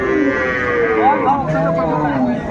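Cattle at a cow market in Jashore, including dairy cows with calves, let out a loud, drawn-out moo that rises and falls, with a busy market din underneath.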